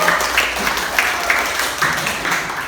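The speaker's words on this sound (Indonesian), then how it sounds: "Beri tepuk tangan buat Afifah." Classroom applause for a student, moderate, uneven clapping from a small group of pupils with rhythmic bursts, continuing for a few seconds.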